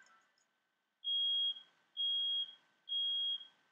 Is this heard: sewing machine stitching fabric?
no